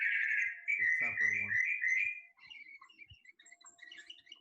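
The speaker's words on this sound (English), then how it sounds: "We couldn't see the bird, but we could hear the bird using our ears." A bird calls with a sustained high whistling trill, then breaks into scattered faint chirps, fairly quiet and close.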